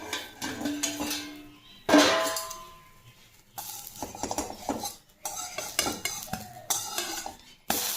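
A cooking pot's lid lifted and set down on a home stove, with sharp metallic clangs and scraping knocks in irregular bursts, close and fairly loud, without voices.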